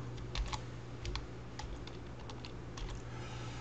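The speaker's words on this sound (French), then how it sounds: "Appuyez sur la touche Entrée de votre clavier." Fingers tap steadily on a computer keyboard, soft close clicks in an uneven rhythm over a low background hum.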